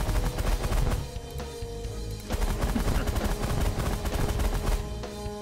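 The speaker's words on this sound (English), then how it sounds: "we'll switch to minigun and open fire" Sustained minigun fire in the space strategy game The Last Federation, a dense, continuous rattle of rapid shots with a short lull near the one-second mark before the barrage resumes, loud throughout.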